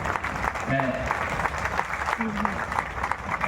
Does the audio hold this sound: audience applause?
yes